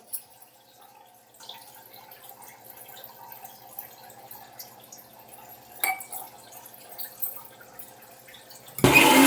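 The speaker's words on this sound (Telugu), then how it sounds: "కొద్దిగా నీళ్ళు వేసి పొడదాం" Soft trickling and dripping of water into a thick henna leaf paste, quiet and close, with a few light clinks, ending in a sudden loud burst.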